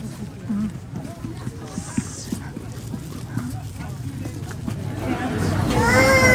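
Horses in a snowy winter field in Alberta, with hoof clip-clop and movement under steady speech and wind-like noise; a dog may bark briefly near the end.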